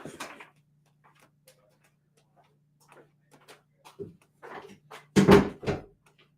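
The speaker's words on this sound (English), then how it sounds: "I want to go shut the door." A door is shut indoors. Quiet shuffling and rustling footsteps come first, then a sharp, fairly loud thud and rattle as it closes, with a faint steady hum underneath.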